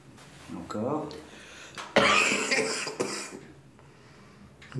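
A man in a doctor's consultation coughs when asked, several harsh bursts separated by short pauses, close and fairly loud, with speech nearby.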